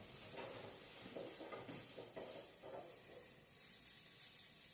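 Spaghetti bolognese sauce bubbles in a pan, giving a faint, steady sizzling hiss with soft rubbing, scraping textures, quiet and close with no talking.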